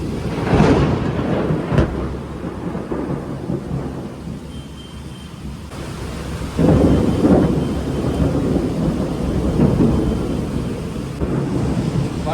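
Thunder from a storm rumbles in several deep, rolling peals over steady rain and wind buffeting the microphone, heard from a balcony, with no talking.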